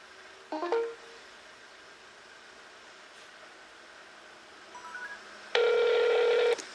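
A Vega Racer 2 phone places a call by voice command: a short rising chime, quiet pause, a few soft tones, then a steady loud outgoing ring tone near the end.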